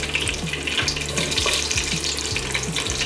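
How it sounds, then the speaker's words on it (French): Mustard and cumin seeds crackle and sizzle steadily in hot melted ghee for an Indian pork curry, a dense close frying hiss alone with no talk. "Tout est fondu, j'ajoute mes graines de moutarde, j'ajoute les graines de cumin"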